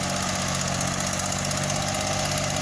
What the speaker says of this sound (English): that's the ag version and that's the gasoline engine version